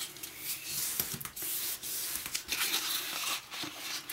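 Paper is creased and folded for bookbinding, heard as soft, close rubbing and crinkling swishes that come in a loose, uneven rhythm of quiet strokes.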